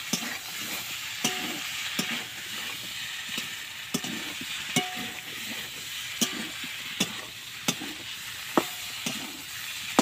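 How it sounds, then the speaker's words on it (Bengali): Eel pieces are stir-fried in a spiced masala with a continuous sizzle. Regular sharp clicks of a spatula striking the pan repeat throughout, close and steady, with no talking. "মাছগুলো দিয়ে আমি একটু কষিয়ে নেব"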